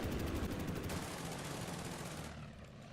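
Shots fired in a turn-based war game set in Malta, heard as a loud, dense rattle of continuous gunfire that lasts about three seconds, with no talking.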